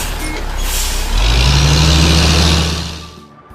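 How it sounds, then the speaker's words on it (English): A cartoon flatbed truck rolls along, a steady loud engine rumble that builds and holds before fading out near the end, with no voices. "the flatbed truck brings the materials from far, far away to help us build everything we need to"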